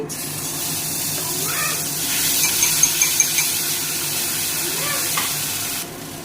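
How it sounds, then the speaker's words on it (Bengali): Spice paste hitting hot oil in a wok while cooking tangra fish, giving a steady bright sizzle throughout with a few short clinks partway through, then cutting off near the end. "এবার বাটনাটা দিয়ে দিচ্ছি।"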